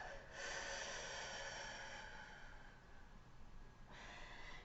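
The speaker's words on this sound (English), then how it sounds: "take a deep breath with me" A single slow, deep breath is drawn in and let out, soft and close, in a quiet room before a Taurus tarot reading.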